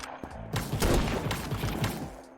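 Pistol shots in the video game Krunker, a rapid burst of several sharp reports over a busy game soundtrack, fairly loud and close.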